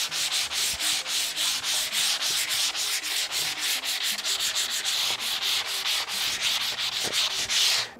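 Steady back-and-forth scratchy rubbing of 220-grit sandpaper held by hand on a wooden dining table, with the grain, close and continuous, with regular rhythmic strokes and no talking.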